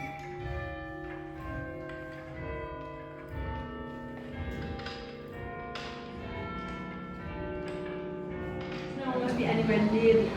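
The bells of Bath Abbey ring in overlapping, sustained tolls with a steady swinging rhythm, somewhat distant and faint, while people talk quietly nearby.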